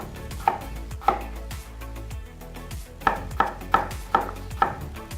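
A knife cuts Yukon Gold potatoes into small pieces on a board, sharp close thuds coming singly at first, then a pause, then five evenly spaced chops in a brisk rhythm.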